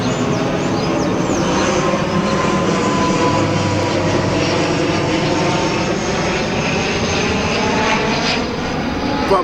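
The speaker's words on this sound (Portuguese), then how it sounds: "Problema de tráfego aéreo aqui," An airplane passes overhead with a loud, continuous engine roar that fills the whole stretch, steady and broad with slight shifts as it moves.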